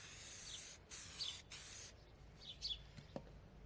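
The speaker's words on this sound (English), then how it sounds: "Okay, so we've spray painted these. I done these in high temperature paint" Short bursts of an aerosol can spraying high temperature paint onto small parts, two or three quick hissing sprays followed by faint handling clicks, fairly quiet and close.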